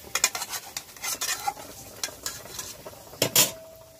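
Pieces of bata fish going into a pan of boiling mustard paste sauce in a village kitchen, heard as scattered clinks, scrapes and soft sizzling bursts with a louder splash-like clatter near the end, nearby and without talk.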